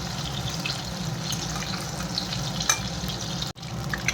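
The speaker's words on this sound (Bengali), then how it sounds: "এরকমভাবে ভেজে নিই সব ডিমগুলো।" Eggs fry in a pan, a steady broad sizzle and crackle with scattered pops, close and continuous, briefly dipping near the end before resuming, with no voices.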